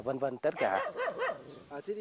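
A dog on a farm in Vietnam barks and yips several times in quick, uneven bursts, close by and fairly loud.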